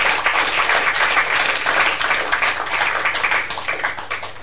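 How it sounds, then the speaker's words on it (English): An audience at a live show gives dense, steady applause for the last performer of the section. The clapping stays loud and unbroken for the whole stretch, with no voices. "please, a big round of applause for Mr. Johnny Solstice"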